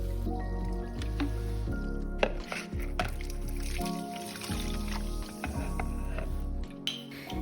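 Fizzing and crackling mineral water after iodized salt is added, a busy mix of bubbling, dripping and squishing sounds close by, with a few sharper pops.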